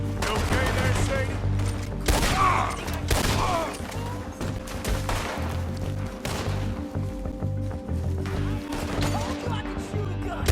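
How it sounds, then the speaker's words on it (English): Gunfire from the video game Red Dead Redemption 2 rings out as dense, repeated sharp shots and crashes throughout, mixed with game dialogue and a musical score. "Told you I could shoot a gun."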